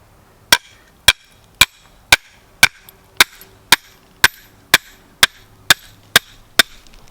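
A hammer drives a metal trap stake into the ground outdoors while trapping raccoons in Louisiana, landing about thirteen sharp, evenly spaced blows close by, roughly two per second, with no talking.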